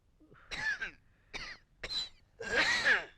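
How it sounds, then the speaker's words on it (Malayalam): A man coughing on a phone call in a Malayalam comedy film scene, four harsh, close bursts with short pauses between, the last one longest and loudest. "നിന്റെ ചുമയൊന്ന് നിർത്ത്"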